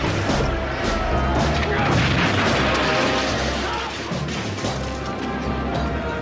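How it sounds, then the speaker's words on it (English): Cannon fire and gunshots crash through a sixteenth-century naval battle at Lepanto, a dense, continuous barrage of booms and cracks with heavy low rumble and no letup. "The two navies showered each other in cannonballs and gunfire"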